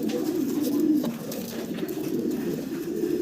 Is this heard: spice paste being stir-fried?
no